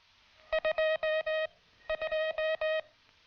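Two bursts of crisp, tonal beeps in Morse rhythm sent on a properly adjusted telegraph key, short and long tones clearly spaced, clean and alone against a quiet background.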